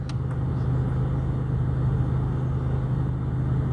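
A car engine nearly out of fuel keeps running, giving a steady low rumble close by with no voices over it.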